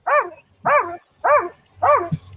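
A dog barks four times in an even, close, loud rhythm, each bark a sharp tonal yelp, with a faint low background hum and a brief rustle at the end.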